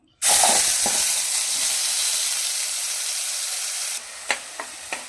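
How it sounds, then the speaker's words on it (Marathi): Masala fries in a kadhai with a little oil, giving a loud, close sizzle that starts suddenly, then drops off, followed by a few sharp scraping taps of stirring. "बघा मसाला फ्राय झालेला आहे"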